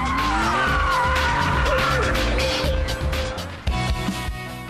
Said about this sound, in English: There's a fine line between a nice drift and spinning out.